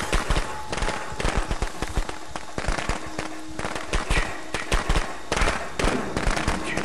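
Firecrackers in the Friday the 13th video game, crackling in rapid, irregular bursts of sharp pops for several seconds, loud and close.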